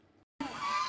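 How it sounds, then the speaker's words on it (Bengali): A domestic duck gives a short, nasal honking call up close, a single loud burst after a brief silence, with no talking. "এই যে হাঁস,"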